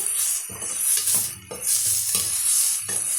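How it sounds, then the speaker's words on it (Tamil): Onions sauté with fennel seeds and kalpasi in a pan for egg gravy, a steady sizzle with repeated scraping strokes and light metal clinks of a spoon against the pan, heard close and without talk. "இப்போ இந்த வெங்காயம் ஓரளவுக்கு வதங்கி வரட்டுங்க"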